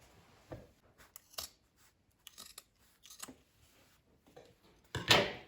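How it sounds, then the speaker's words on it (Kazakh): Scissors snipping the corner off a sewn fabric cosmetic bag, cutting about 5 mm short of the seam: a few scattered soft snips, then one louder, closer cut near the end, in a quiet room. "осы бұрышын қиып алып тастаймыз"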